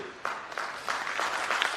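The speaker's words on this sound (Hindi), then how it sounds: "लेकिन कुछ लोग ताली बजा रहे हैं" An audience at a union meeting clapping, a scattered patter of hands that swells into fuller applause, moderately close in a hall.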